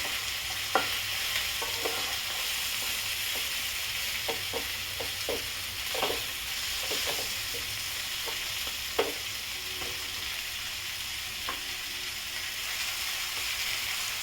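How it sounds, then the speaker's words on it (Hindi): Spice paste with red chilli sizzles and fries steadily in a pan for chicken biryani, with intermittent scraping and stirring clicks from a utensil throughout. "इसे चारों तरफ अच्छी तरह पहले मैं भून लेती हूँ।"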